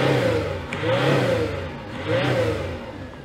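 Big Citroën C6 diesel engine warming up and revving, with two swelling rises in engine note and a steady mechanical rumble between them, loud and close, with no voices.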